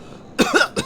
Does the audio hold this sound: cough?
yes